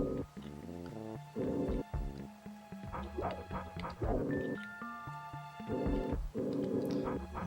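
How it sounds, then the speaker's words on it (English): A dog in the SNES game Aaahh!!! Real Monsters eats the player character, heard as chiptune-style yapping and barking bleeps repeating in bursts over a constant synthesized game soundtrack. "There's the dog. He's eating me again."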